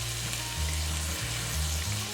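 Onions frying in a pan for a leek and olive stew, with baking soda sprinkled over them; a steady, close sizzle runs throughout over a low humming drone.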